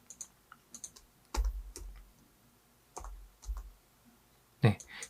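Sparse keystrokes on a computer keyboard while an age value is entered into a Python program: irregular quiet clicks with a few heavier thumps.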